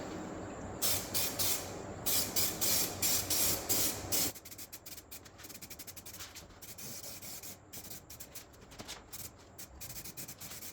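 A spray can of weld-through primer hisses in repeated short bursts along the edges of car panels on a 1970 Ford LTD. The bursts come loud and rhythmic at first, then quieter, quicker and more clipped.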